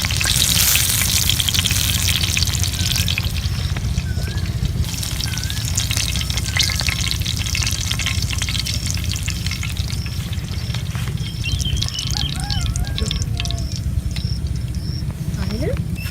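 Chicken shashlik sticks fry restaurant-style in a pan in a village kitchen. A loud, steady sizzle with crackling and spitting runs throughout, and faint voice-like sounds occasionally rise above it.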